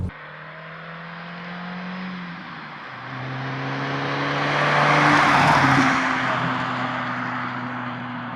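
A tuned 1999 Ford Focus 2.0 16v driven hard on a hill road, its engine revving up through the gears with a brief shift dip, swelling to a loud rasping peak before easing off, heard alone from inside the car.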